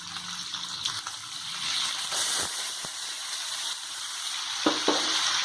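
Ginger garlic paste and onion paste hit hot oil for a chicken bhuna masala, producing a loud, steady hissing sizzle that swells midway, with a couple of brief stirring clacks and no talking.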